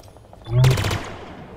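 A short burst of weapon fire in the shooter game Halo Infinite, one loud rattling volley that flares up and then trails off, with a voice speaking faintly underneath.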